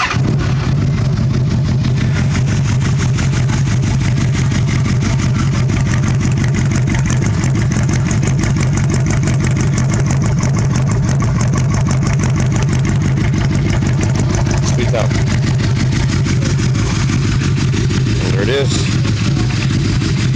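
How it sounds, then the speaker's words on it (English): A black and chrome Star Tour Deluxe motorcycle idles with the exhaust baffles removed, a loud, continuous low rumble that chugs steadily throughout. "Had the baffles taken out of my exhaust, so got a nice little rumble going on."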